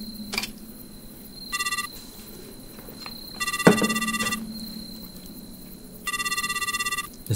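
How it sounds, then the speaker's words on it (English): Electronic telephone rings in the game Midnight Prowl, three bursts of fast trilling chirps spaced a couple of seconds apart, with a thud between the second and third and a faint steady tone underneath. "I hear a phone."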